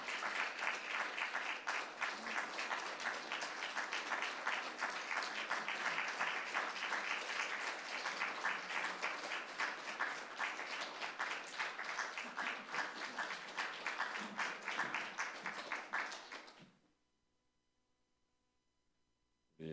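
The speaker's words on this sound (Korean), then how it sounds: "드릴 때 큰 박수 주시기 바랍니다." Big round of applause from a church congregation honoring teachers on Teachers' Sunday, dense sustained clapping that fills the room for about sixteen seconds before stopping abruptly into near silence.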